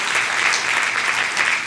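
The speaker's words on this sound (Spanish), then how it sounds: "Dan un aplauso al que vive y reina." A church congregation breaks into loud, dense applause, a continuous wash of clapping hands that stays even from start to finish with no voices on top.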